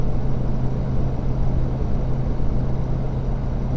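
A Ford Powerstroke diesel pickup truck pulls 14,500 lbs up a hill in fifth gear, giving a steady, loud, low engine drone with no pauses and no speech.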